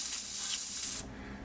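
Short, close hiss of an airbrush spraying paint for a model ship, steady for about a second and then cutting off sharply to quiet.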